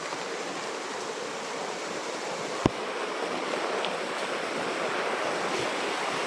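Heavy rain and wind roar steadily outdoors as a broad, continuous hiss with one sharp knock partway through and no talking.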